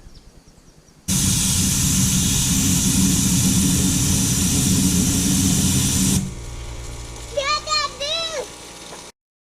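An air compressor nozzle blows paint flakes off a school bus, making a loud, steady, close rush of air for about five seconds that then cuts out, followed by a brief high whine and a voice speaking.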